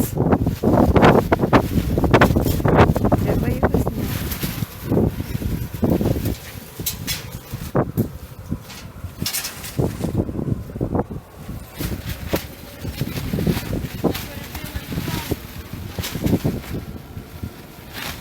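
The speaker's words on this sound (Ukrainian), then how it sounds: "але вітер його дорве, такий вітер" Strong wind roars and gusts against the microphone, rising and falling, while a person speaks briefly amid the rustling and flapping of a tarpaulin.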